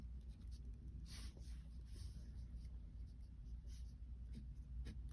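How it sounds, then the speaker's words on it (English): A marker or chalk scratches across a board in short strokes, faint and close, over a steady low background hum during a statistics lesson. "let's go ahead and write that out here"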